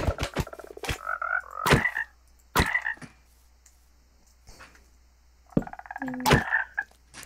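Minecraft frog croaks in a game setting, several short bursty croaks at moderate loudness with thumping game clicks and hits between them, no talking.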